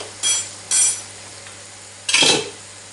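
Onion dropped into a hot pan for sofrito, with lamb offal cooking, gives a few sharp bursts of sizzling and clattering from stirring, close and loud over a quiet hiss.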